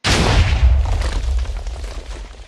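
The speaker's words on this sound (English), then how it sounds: "this is a gigantic explosion" A gigantic macro bomb blows up in a mining video game mod: a single loud, deep boom that bursts instantly and then rumbles and crackles away without pause.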